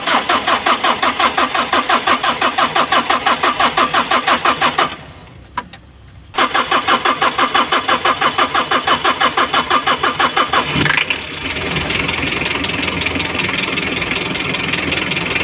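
A Mitsubishi engine after an oil change cranks with a rapid rhythmic starter whir, pauses briefly, cranks again and then catches, settling into a steady idle.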